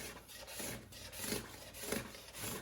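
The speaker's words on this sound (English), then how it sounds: "and I can take light passes to get that finish off" A sharp scraper takes light passes over a wenge-veneered top to strip the old finish, producing soft rhythmic rasping strokes, about five in a row, quiet and close with no talking.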